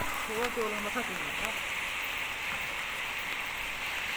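Heavy rain pouring down in a continuous, dense hiss that holds steady throughout, with brief talking near the start.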